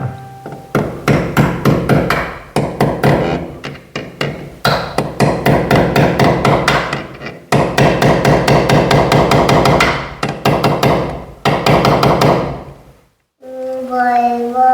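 Loud, rapid hammer blows ring out in long bursts as nails are driven for marking, sharp metallic strikes repeating quickly with brief pauses between runs.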